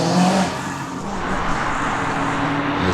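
A little RS race car finishes a hillclimb run at the Legend of the Lakes Hillclimb, its engine roaring steadily at a distance, fairly loud, with no talking.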